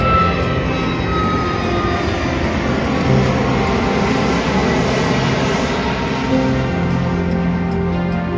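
A Boeing 737 jet at Eugene airport in Oregon gives a steady, loud engine roar and whine that holds throughout without talk.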